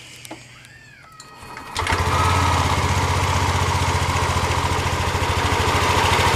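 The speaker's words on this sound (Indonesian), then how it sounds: "Sekarang kita nyalakan motornya" Yamaha Lexi scooter with an intermittent sputtering fault and a constantly lit indicator lamp, starting from a quiet moment and settling into a loud, steady, close-up idle with a fast, even putter that holds to the end.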